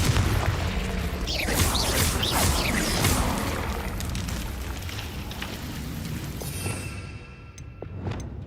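Repeated booming blasts of the Confringo fire spell in the video game Hogwarts Legacy, loud dense crashes with debris rumble through the first several seconds, then fading into quieter game ambience.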